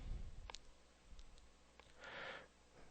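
A few soft computer mouse clicks, faint and close, against a quiet room background.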